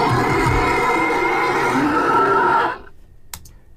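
A monster voice built from a horse whinny layered over a polar bear roar, loud and sustained for nearly three seconds with a shrill whinnying top over a growling low end, then cutting off to near silence with a couple of faint clicks.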